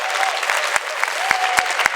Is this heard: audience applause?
yes